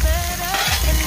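Capsicum and carrot sautéing in a hot pan for chicken fried rice, a steady close sizzle and frying crackle heard alone for about a second.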